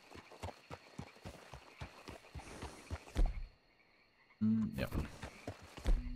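Horse hooves clip-clop in Red Dead Redemption 2, a rapid run of regular thuds that stops for about a second, then footfalls resume amid crickets and other ambient game sounds, with someone speaking briefly.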